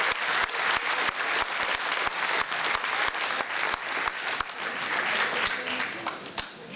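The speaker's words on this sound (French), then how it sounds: "Encore des applaudissements." An audience claps steadily at a 2014 radio singing contest in Bain de Bretagne, a dense, even round of applause with sharp individual claps standing out, continuing alone for several seconds.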